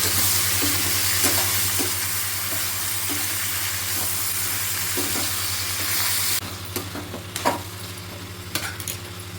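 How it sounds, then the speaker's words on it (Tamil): Dried red chili and green chili sautéing in hot oil for tomato chutney, a loud steady close sizzle with occasional stirring clicks, then the frying softens partway through. "ஒரு பச்சை மிளகா, நல்லா வதக்கிக்கலாம்."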